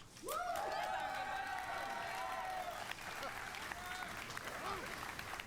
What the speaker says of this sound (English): I'm going to ask you for another round of applause